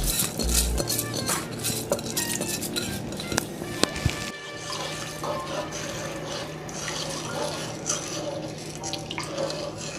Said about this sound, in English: So I'm just going to add it straight to the pot like this.